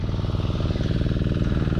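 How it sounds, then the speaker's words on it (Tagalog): A small engine runs an irrigation water pump for a rice field, chugging at a steady rapid rhythm close by and fairly loud, alone for the whole stretch. "pinasindi ko yung ano guys, yung mga makina para pagpatubig ulit ng palay."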